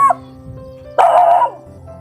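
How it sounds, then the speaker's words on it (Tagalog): An angry dog barks in a loud burst at a family home in Malalag, set against a steady background hum with quieter rumbling before and after. "Galit sa akin yung aso."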